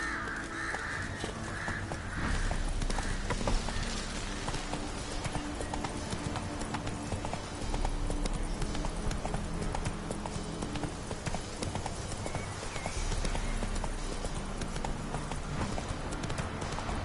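Roach, Geralt's horse in The Witcher 3: Wild Hunt, gallops with steady, continuous hoof clip-clops that run for the whole stretch, joined by crows cawing over the game's ambient background.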